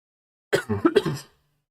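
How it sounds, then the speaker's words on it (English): A man gives a short, rough cough with a throat-clearing rasp, close and alone in a quiet room, lasting under a second before silence. "I've got a bit of a cough today"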